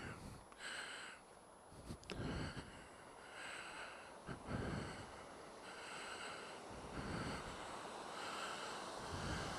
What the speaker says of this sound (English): the old water's still flowing away there